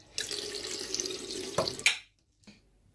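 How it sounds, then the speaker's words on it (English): Water runs from a tap into the bottom container of a coffee maker, a steady close splashing pour that stops abruptly, followed by a couple of faint drips and clinks. "Fill the bottom container with water up to the fill line."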